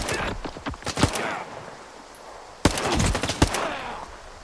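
Bursts of rapid automatic gunfire in S.T.A.L.K.E.R. 2, loud and close, in two clusters separated by a short lull.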